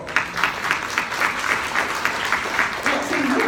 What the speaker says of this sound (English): Family members, let's give our service members a round of applause